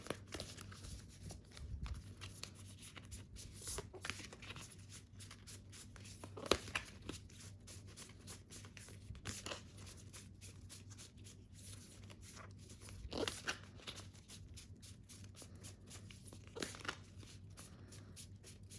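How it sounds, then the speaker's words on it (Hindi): Tarot cards being shuffled by hand produce faint, papery riffles and soft flicks in repeated bursts, quiet and close against a low steady hum. "जब तक मैं कार्ड्स शफल कर रही हूँ"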